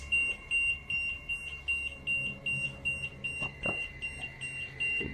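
EMF meter giving an active reading in a dormitory, emitting a steady train of evenly spaced high, thin beeps, about two per second, over faint background noise.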